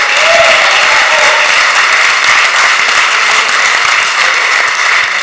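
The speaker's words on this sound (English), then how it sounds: "Big round of applause for all his service he's given to the city" Applause during a Philadelphia City Council stated meeting honoring a member's service, a loud sustained roar of many people clapping at a constant level across the whole stretch, with a brief voice near the start.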